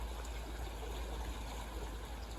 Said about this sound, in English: I'm just letting the water into this, letting the water in to build the level up, so that Alison can come straight in.